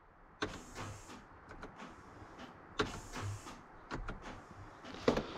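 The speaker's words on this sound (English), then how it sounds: "as you can hear, my actuator and the transfer case is working because you can hear it" On a 2002 Toyota Tundra 4x4, the actuator and transfer case run with a faint mechanical whir punctuated by several sharp clicks and clunks, heard quietly at a distance.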